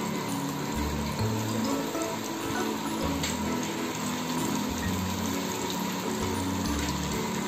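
Chicken fingers dropped one by one into hot oil, a steady broadband frying hiss with low pulsing bursts and mechanical clatter, continuous and fairly close, no talking.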